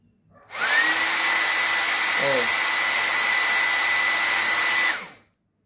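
A homemade electric jet engine motor on a 42-volt DC supply spins up to a loud, steady high-pitched whine with a rising tone. It holds for about four seconds, then cuts off and fades to silence.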